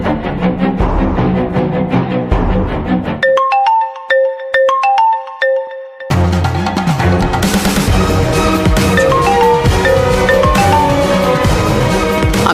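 A phone's melodic ringtone plays in a Telugu TV serial scene. The bright, repeating tones ring alone for a few seconds between stretches of loud background music.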